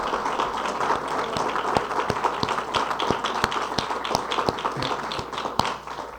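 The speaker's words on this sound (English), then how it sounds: "Give them an applause" Scattered, fairly thin applause from the audience at a county rent stabilization bill signing, with sharp individual claps standing out over a steady patter and faint voices underneath.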